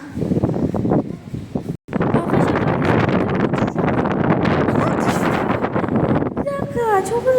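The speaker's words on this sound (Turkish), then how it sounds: "rüzgar var" Strong wind roars and buffets the microphone in continuous gusts, with brief rustling and a short dropout partway through.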